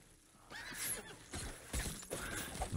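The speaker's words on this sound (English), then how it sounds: "I like how they just pull horses out of nowhere." In the video game Diablo IV, a horse gives a bright, loud whinny near the start, followed by a few clip-clopping hoof sounds and more whinny bursts over under three seconds.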